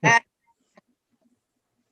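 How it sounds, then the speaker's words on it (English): One short, nasal quack from a neighbor's domestic duck at the very start, then near silence with only a few faint distant ticks. "because your neighbors have ducks, you'll hear the ducks."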